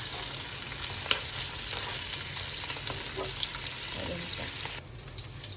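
Prawns frying in a pan for pancit canton, a steady broadband sizzle with occasional stirring clicks, close and fairly loud, easing off near the end.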